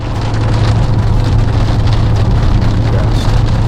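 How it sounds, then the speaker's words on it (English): Hail and sleet pelt a van driving on the road toward Manitoulin Island, a loud, dense, continuous drumming on the roof over steady low road rumble, with no talking. "We've got hail and sleet and everything coming down right now."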